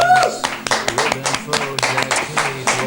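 A studio audience at a French television show claps in quick, rhythmic bursts, loud and close, layered over music and a talking voice.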